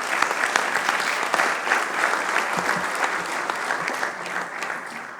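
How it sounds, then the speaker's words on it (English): A congress audience applauds, dense continuous clapping from a large crowd heard steadily from start to finish, fading slightly at the end. "we'll clap for him again"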